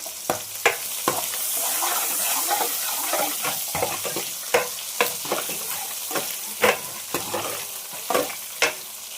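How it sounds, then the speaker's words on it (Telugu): Amaranth and gongura leaves fry with fish pieces in hot oil, a steady close sizzle broken by frequent sharp scraping stirs of a spoon against the pan. "ఈ గోంగూర కూడా తోటకూరలో కలిపేస్తున్నాం."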